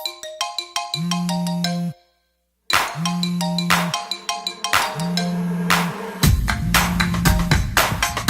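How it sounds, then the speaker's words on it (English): A phone ringtone plays in repeated electronic rings with a steady tonal pattern. It breaks for a brief silence and then resumes, loud and close, with no one speaking over it. "I hear a ringer ringing, I hear a buzzer buzzing."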